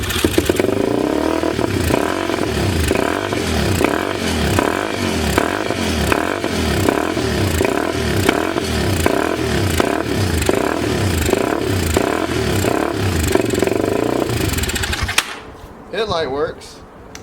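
A 2004 Yamaha TTR 250 engine turns over in a steady, rapid mechanical rhythm for about fifteen seconds, loud and close, then cuts off abruptly with a brief voice afterward.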